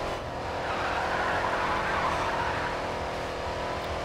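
A car drifts with sustained tire skid in the GRID 2 racing game, a steady loud squeal and engine roar held evenly for several seconds without a break.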